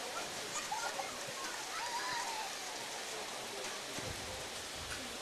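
Rain falls steadily at an outdoor baseball game, a dense even hiss of drops on surfaces with faint distant voices underneath.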